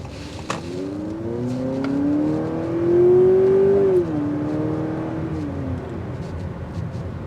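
A 2023 Honda Accord Hybrid EX-L accelerates on a test drive. A smooth, steady drivetrain hum rises in pitch and loudness, then eases back into an even cruise, heard from inside the car with no talking.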